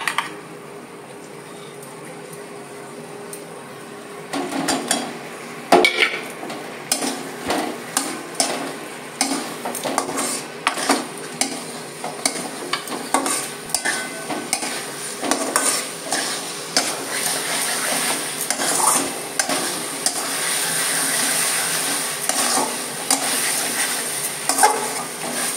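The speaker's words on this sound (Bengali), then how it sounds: "এবার আমি এর মধ্যে ডিম আর আলু দিয়ে একটু কয়েক মিনিট কষিয়ে নিয়ে নাড়াচাড়া করে তারপর আমি জল দিয়ে দেবো" Duck eggs and potatoes are stir-fried in a spice paste, with a steady sizzle under repeated scraping and clattering of a spoon against the pan that grows busier and more rhythmic as the stirring goes on.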